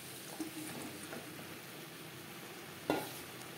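Fish roe being stirred into spiced eggplant in a frying pan gives a steady low sizzle with soft scraping stirs, and a sharper clatter arrives near the end.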